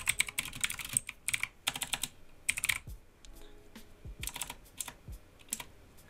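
Keystrokes on a computer keyboard typing out a search for Windows 10 keys, coming in quick bursts of clicky taps with short pauses between them, close and clear with no talking.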